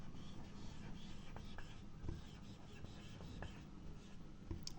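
Chalk or marker scratches and taps across a board during an Azerbaijani grammar lesson. The faint, irregular strokes sound close against a soft room hiss.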